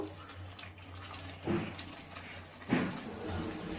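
Running water splashes steadily as a mixing jar is rinsed of cashew and melon-seed spice paste, close and continuous, with a couple of sharper clatters and soft background noise throughout.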